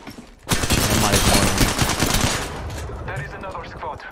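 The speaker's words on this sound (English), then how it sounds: "Who's shooting at you?" Automatic gunfire rattles in Apex Legends, a loud, rapid burst of shots lasting about two seconds before tapering into fainter scattered noise, with a voice speaking in the background.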